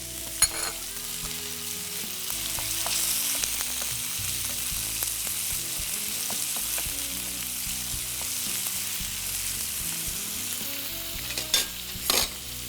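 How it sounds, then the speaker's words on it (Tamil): Chopped tomatoes going into a hot pan for a Tamil home-style dish, giving a continuous close sizzle with frequent stirring and a few sharp utensil knocks near the end, no voices. "அடுத்தது பொடியாக நறுக்கி வச்சுருக்க தக்காளி,"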